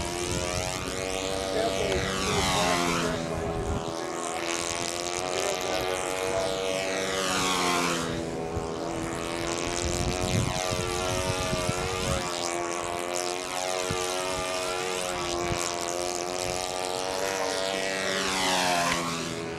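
A small propeller airplane drones overhead in an open outdoor spot, its steady buzzing hum rising and falling in pitch as it passes, loud and continuous for the whole stretch.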